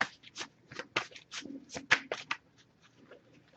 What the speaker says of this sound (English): if I shuffle for a while without any cards coming up